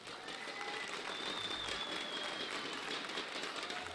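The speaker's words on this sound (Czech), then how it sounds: "velký potlesk si zaslouží i tým Iron Team Gaming" Spectators at a CS:GO esports tournament applaud the Iron Team Gaming squad, a faint, distant wash of clapping that stays even throughout, with a thin electronic whine running across the hall.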